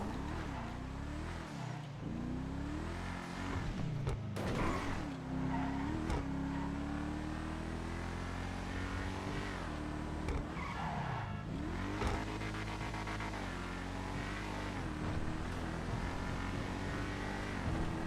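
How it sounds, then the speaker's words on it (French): A car is driven hard in a video game, its engine revving with changing pitch while tires squeal and skid repeatedly, loud and continuous over about eighteen seconds with no voices. "Est-ce que je sais encore conduire Paragon?"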